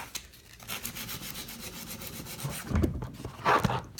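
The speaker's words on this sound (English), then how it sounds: "sanding the corners." Rapid back-and-forth rasping of sandpaper rubbing on wood, close and moderately loud, with a couple of louder strokes near the end.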